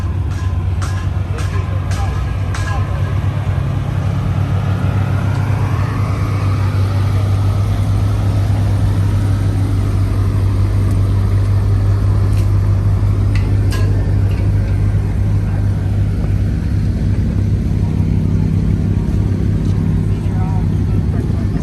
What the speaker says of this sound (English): Hellcat Durango. Finally. Hellcat Durango.